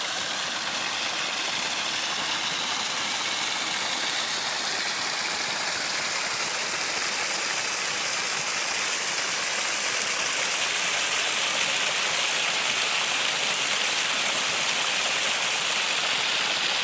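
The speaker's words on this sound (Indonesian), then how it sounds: "Di sini kita menemukan air terjun mini lagi." Small mountain waterfall on Gunung Picis near Ponorogo, a steady broadband rush of falling water that holds constant and fairly close throughout, with no voices.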